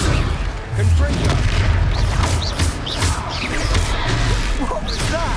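The Confringo blasting spell goes off in Hogwarts Legacy during a magical battle, a loud booming blast with crashing impacts and whooshes amid combat noise, with voices shouting over it.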